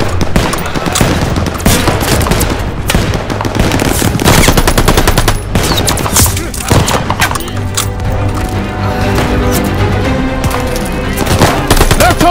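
Sustained machine gun fire and gunshots from a Call of Duty: Vanguard battle during Operation Tonga, rattling loudly and continuously in dense bursts with booming impacts and shouted voices mixed in.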